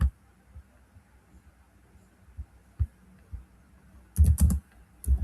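Keys tapped on a computer keyboard to enter a chat command, sparse soft clicks and then a quick burst of several louder keystrokes near the end, close and alone in a quiet room.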